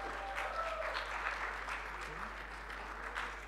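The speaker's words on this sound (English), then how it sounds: "Some kind of enthusiastic applause as your number is called" Enthusiastic applause from a conference audience as a number is called out, a dense continuous patter of clapping at moderate distance, with some voices and cheering threaded through it.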